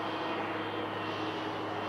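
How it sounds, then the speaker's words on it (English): A float plane flies overhead near a working ship terminal on an overcast September day, its engine a steady, broad droning roar that holds level throughout with no talking. "Another float plane overhead."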